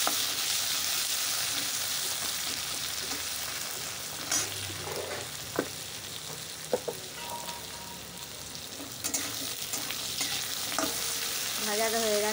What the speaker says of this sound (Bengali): জিরে দিলাম, ফোড়ন, আলুগুলো দিয়ে দিলাম, এবার ভেজে নিচ্ছি।